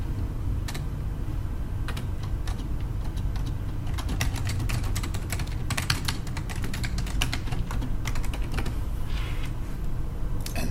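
Rapid, uneven keystrokes on a computer keyboard while writing an email, close and fairly quiet, with short pauses between bursts of clicks.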